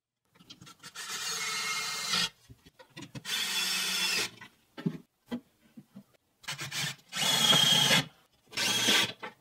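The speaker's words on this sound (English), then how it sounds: "using wood glue and pocket hole screws," Power drill driving pocket hole screws into plywood table aprons, several loud, close bursts of whining motor and grinding screw, each lasting one to two seconds, separated by short pauses.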